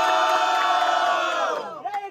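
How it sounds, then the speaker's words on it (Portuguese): Spectators at a student rap battle final let out a loud, sustained collective roar and cheer that fades after about two seconds, ending in a few scattered shouts. "Barulhos pra quem gostou das rimas da Mona"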